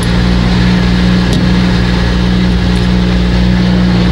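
A rally car engine from the 2004 Monte-Carlo Rally drones loud and steady from inside the car, a strong, continuous low hum with no pauses.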